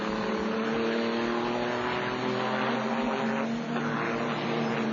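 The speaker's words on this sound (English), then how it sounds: "And away goes the number 2 car." A GT race car pulls away on the Watkins Glen circuit, its engine a loud, sustained droning roar with shifting pitch that fills the whole stretch.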